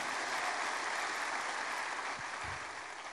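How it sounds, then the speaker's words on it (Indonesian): A church congregation gives loud, steady applause in praise of God, a dense wash of clapping that holds evenly for a few seconds and eases slightly at the end. "Yang setuju berikan tepuk tangan yang meriah buat Tuhan"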